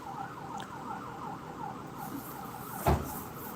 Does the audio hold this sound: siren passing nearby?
yes